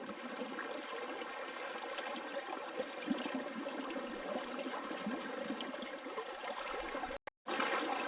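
Water and gravel swirling in a gold pan while prospecting in Fiji, a steady close sloshing and rattling wash that runs without a break, alone with no talk, then cuts out briefly near the end.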